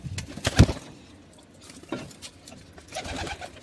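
A few soft pigeon coos and bird calls, close by, scattered with short pauses between them.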